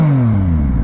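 Yamaha Tracer 900 GT motorcycle engine revving up loudly and close, a steady, strong mechanical drone with the pitch sliding down slightly as it settles, heard alone.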